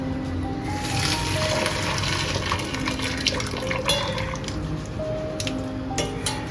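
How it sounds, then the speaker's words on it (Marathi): Water pouring and splashing out of a pot as boiled peas are drained, a steady close-up rush with a few drips. "वाटाणे जे आहेत ते थोडेसे मी बॉईल करून घेतलेले त्याचं पण पाणी काढून घेऊया"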